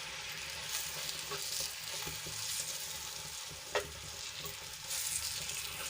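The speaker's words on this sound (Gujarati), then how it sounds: "એની ઉપર આપણે આ જે મસાલો હતો એ એડ કરી દઈશું અને સરસ રીતે મિક્સ કરી લઈશું" Spice mix gets stirred into Kathiyawadi stuffed green chillies sautéing in a pan: a steady, fairly quiet sizzle with soft scraping stir strokes and one brief sharp clink, no voices.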